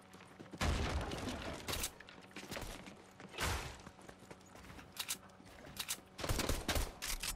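Eminem's RG minigun from a video game fires in long sustained bursts, loud and close, with short pauses between volleys.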